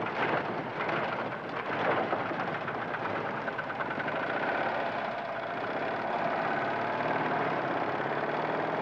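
Heavy rain pours steadily in the African bush, a dense continuous hiss with low rumbling beneath that fits distant thunder, loud and unbroken throughout without any talk.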